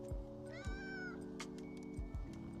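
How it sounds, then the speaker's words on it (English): Cats meow several times in the video game Powerwash Simulator 2, with drawn-out rising and falling calls over a steady low background hum and music, no talking. "We have Bubbles and Squeak, his kitties."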